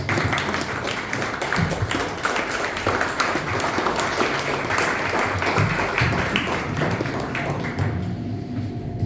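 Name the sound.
round of applause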